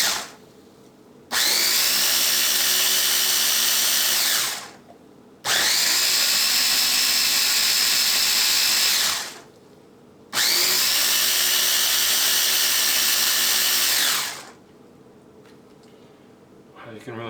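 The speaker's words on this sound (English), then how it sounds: "Let's grind this up, mix this up." A blender grinds achiote marinade for cochinita pibil in three loud, sustained whirring bursts of a few seconds each, separated by brief pauses.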